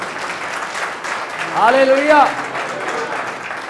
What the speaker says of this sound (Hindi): जोर से ताली बजाओ परमेश्वर।